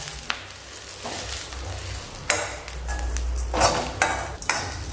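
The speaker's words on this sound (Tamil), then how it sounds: "இப்போது 2 நிமிஷமாக இந்த முருங்கைக்கீரையை நான் வதக்கியிருக்கிறேன்" Drumstick leaves (murungai keerai) sauté in a pan, giving a soft continuous sizzle broken by a few scraping stirs and light clinks of a spoon against the metal, with no talk.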